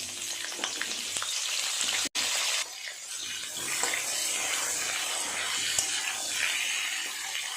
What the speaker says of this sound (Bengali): শিমগুলো আগে ভালো করে ভেজে নিতে হবে।